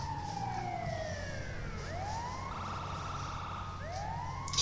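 An ambulance siren in the video game GTA 5 wails continuously, rising and falling in sweeping tones over a steady engine and road rumble, fairly close, with no talking.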